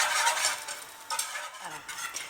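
A whisk or spoon stirs béchamel sauce made with cold milk in a pan over the heat for moussaka, giving a steady soft scraping swirl that runs through the whole short stretch, close and fairly quiet, with no talk.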